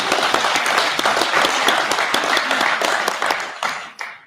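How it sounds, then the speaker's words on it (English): An audience at a Toronto investment outreach event claps in a lively burst of sharp, overlapping hand claps that thins out and fades away over the last second. "May I have a clap for that?"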